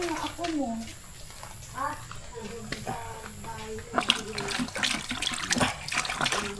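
Water runs from a tap for handwashing outdoors on a rainy day, a steady splashing stream that grows louder partway through, under frequent chatter from adults and a child.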